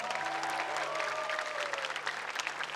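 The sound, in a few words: applause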